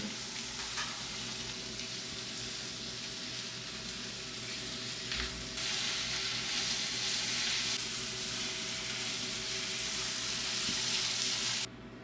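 Chopped tomatoes fry in a pan in a steady close sizzle with soft stirring scrapes, and a low hum sits beneath. The sound cuts off abruptly near the end, with no talking.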